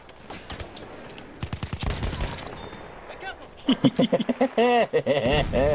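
Gunfire in the World War I shooter Battlefield 1: a few scattered shots early, then a dense run of rapid bursts that build into sustained automatic fire near the end, with some talk mixed in.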